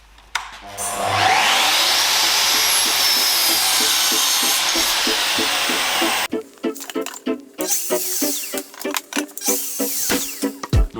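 Power saw cutting wood pieces to length for a standing-table base, a loud sustained whine through the cut that stops midway, followed by knocking and clattering of wood being handled.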